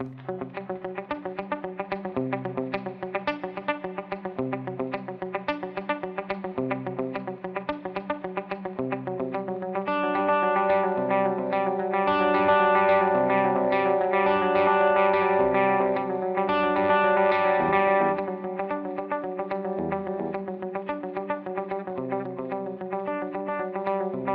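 An electric guitar plays through a delay pedal set to dotted-eighth repeats, so each note echoes in a running rhythmic cascade. Playing is steady, grows denser and louder in the middle, and has no talk over it.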